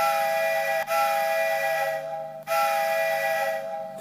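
A steam-train whistle notification tone on a phone sounds twice in a row, each a sustained, bright multi-note blast with a clear break between them, loud and with no talk.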